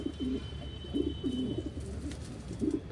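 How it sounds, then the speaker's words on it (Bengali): Several pigeons coo in a loft, giving repeated low throaty rolling calls in short bursts, near and moderately loud, with no voices. "তো নতুন দুটো পায়রা এনেছি সেটা তোমাদেরকে দেখাবো"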